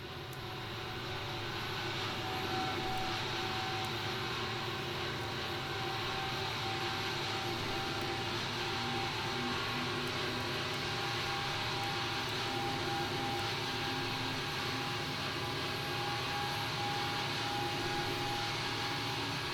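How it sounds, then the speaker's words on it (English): A simulated Boeing 747-8 jet engine spooling up during start in the X-Plane 11 flight simulator, a steady loud whine and broadband roar that holds continuously with a faint tonal hum throughout. "Let the engine come up, stabilize."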